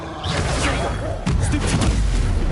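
An Incendio fire spell is cast during combat in Hogwarts Legacy, with a loud whooshing burst and a heavy thump midway through, set over a dense, continuous bed of game battle noise.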